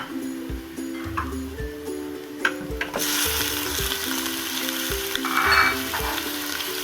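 Chicken frying in a pan with golden-browned onions for a pumpkin meat curry, a loud steady sizzle that swells halfway through, with regular ticking spoon strokes against the pan, close up.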